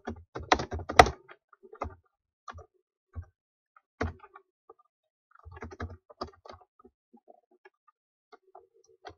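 Keys on a computer keyboard are tapped in short irregular bursts, a quick flurry at first then scattered clicks and brief runs with pauses, close and crisp in a quiet room.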